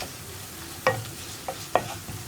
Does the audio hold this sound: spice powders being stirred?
yes